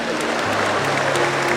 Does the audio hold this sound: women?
yes